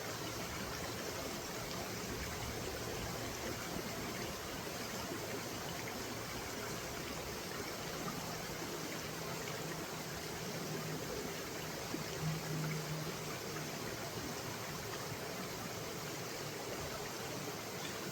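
Water sloshing and swirling steadily in a gold pan during prospecting in Southern California, a continuous close wet rush with a faint low murmur.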